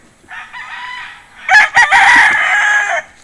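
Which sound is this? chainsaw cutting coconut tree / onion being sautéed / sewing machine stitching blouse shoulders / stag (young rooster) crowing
stag (young rooster) crowing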